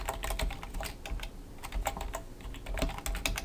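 Rapid, close keystrokes on a computer keyboard while HTML code is entered, a dense run of clicks with a brief lull in the middle and no talking.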